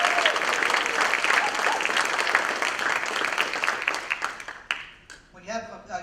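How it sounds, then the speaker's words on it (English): An audience at a barbecue-history talk applauds the barbecue suppliers, loud dense clapping that thins and fades toward the end with a voice starting to talk over the last seconds. "let's give a big round of applause to Craig and Scott Painter"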